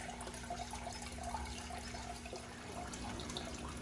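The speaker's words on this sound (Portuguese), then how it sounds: "a água já chega aqui em cima limpa" Water flows continuously out of a ceramic filter packed with gravel, wool and charcoal into a carp pond, a steady soft trickling and splashing with a faint hum beneath it.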